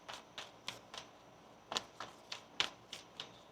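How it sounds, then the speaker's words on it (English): Tarot cards shuffled by hand, a faint, close series of about a dozen light, crisp snaps in a steady, quick rhythm, with no voice. "One more shuffle."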